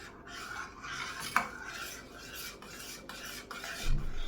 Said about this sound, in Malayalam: ഓഫ് ചെയ്തിട്ട് കുറച്ച് ഫ്രഷ് ക്രീം ഒഴിച്ചു കൊടുക്കാം. മിക്സ് ചെയ്ത് കൊടുക്കാം.